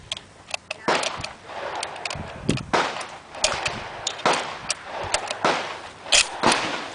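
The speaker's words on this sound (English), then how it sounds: "3 more rounds" Several rifle shots from an Irish army rifle fired at a target 100 yards away, each one a sharp, loud crack with brief gaps between them, mixed with bolt handling and outdoor background noise.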